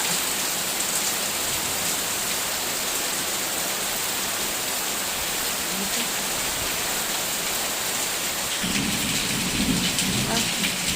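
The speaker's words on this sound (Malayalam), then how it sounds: "നല്ല ഇടിമുഴക്കം, നല്ല മഴയും ഇടിയും" Heavy rain pours steadily during a hot-season thunderstorm, with a low rumble of thunder swelling in near the end; a dense, constant wash with no talk.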